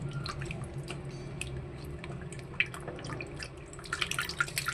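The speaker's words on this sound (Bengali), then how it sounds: "চিকেনটাকে ধুয়ে নিচ্ছি।" Raw chicken is washed under running water, a faint trickle with scattered drips and splashes that grow busier toward the end, with quiet handling noises and no speech.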